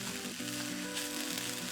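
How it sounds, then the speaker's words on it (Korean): Balsamic vinegar sauce sizzles as it is stir-fried down in a pan for steak, a steady close crackle that runs throughout with no one speaking. "이렇게 볶아주는 거예요."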